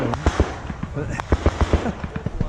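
Rapid bursts of gunfire crackle through an army airborne infantry training exercise in Latvia, sharp reports coming in uneven clusters over a steady outdoor rumble, with soldiers shouting and talking under the shots.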